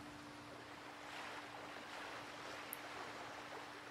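Small waves lapping against the hull of a boat out at sea, a soft, steady wash of water with faint wind, heard alone at low level.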